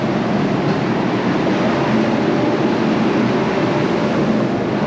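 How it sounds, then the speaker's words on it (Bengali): Padatik Express pulling out of a station on the Kolkata route, a steady loud rumble of the moving train that holds level throughout, with no voices. "ফাইনালি ট্রেনটা ছেড়ে দিল।"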